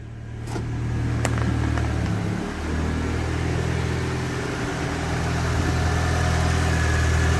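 A classic car engine idles steadily after starting, a low mid-pitched rumble with a slight dip in revs before settling, close and loud with no talking.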